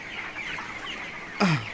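Broiler chickens in a poultry shed with sand litter: soft, distant murmuring from the flock, then one short, louder cluck near the end.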